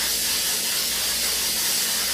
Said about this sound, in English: now we're gonna go ahead and just spray our pan